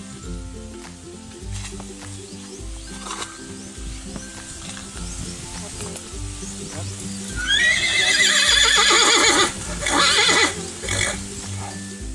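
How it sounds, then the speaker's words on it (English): A horse at a beach resort in the Philippines neighs loudly in a rising then falling whinny near the end, after hoof clip-clops and background sounds, with no talk. "he's a beautiful horse, but not one for riding"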